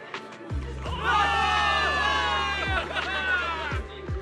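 A large crowd of soldiers in the game Zenless Zone Zero erupts into loud, sustained cheering and shouting at a victory rally, with heavy thuds at intervals beneath the roar.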